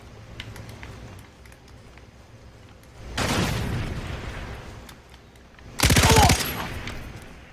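Bursts of automatic gunfire from a weapon called the angry gun in a livestreamed video game, a longer roaring volley followed by a shorter, louder burst over steady game background noise.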